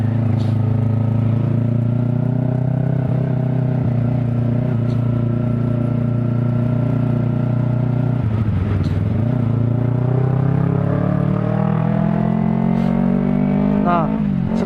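Dense motorcycle and car traffic crawling along a jammed road, a steady loud engine drone close by with passing vehicles rising and falling, during a ride on a Yamaha R25.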